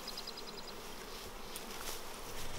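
Honey bees buzzing softly in a steady hum while being shaken out into mini nucs, a faint swarm drone with light rustling and a few small knocks in the background.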